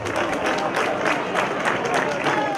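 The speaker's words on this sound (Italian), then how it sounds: "Un bel applauso per Antonello Salis." An audience at a Sardinian folk festival applauds in a steady, dense wash of clapping with some crowd murmur throughout.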